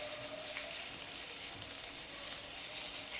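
Ginger, garlic and green chili paste, about a spoonful, sautéing in a pan for coriander bhaji, giving a steady soft sizzle with a couple of faint clicks, fairly quiet and close, with no talking.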